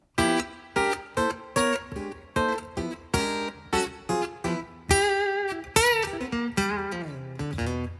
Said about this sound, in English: I'm also using this glorious reverb device.